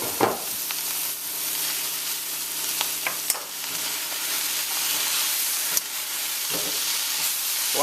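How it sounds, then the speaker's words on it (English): Chopped pak choi and smoked bacon sizzle in a pot as a spoon stirs them, with a steady frying hiss broken by scraping strokes and small clinks. "You want to give that a quick stir. Turn your heat up to like a medium-high"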